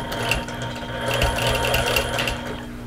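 Sewing machine stitching in the ditch along Dresden Plate quilt blocks, a steady close mechanical whirr with a fast rhythmic needle clatter running throughout, no voices.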